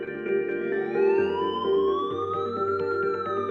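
An ambulance siren wails continuously with a rising, sweeping pitch, fairly loud and steady, with no voices over it.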